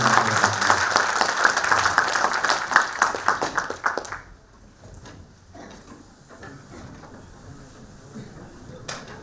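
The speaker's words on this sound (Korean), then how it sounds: "인사 박수로 감사드립니다" Seminar audience in a hall applauding, a burst of many hands clapping that cuts off abruptly midway, followed by quieter room noise, scattered knocks and shuffling.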